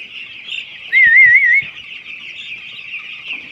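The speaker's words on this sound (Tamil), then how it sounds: "மொத்தம் ஒரு 6000 கோழி இருக்குது நண்பர்களே." Chickens on a poultry farm housing around 6000 birds call steadily, with one louder, longer squawk standing out near the start. A few low thumps sound underneath, and no one speaks.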